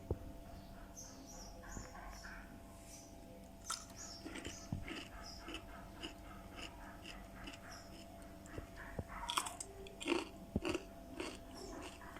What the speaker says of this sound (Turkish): Şimdi size nasıl çıtır çıtır olduğunu göstereceğim.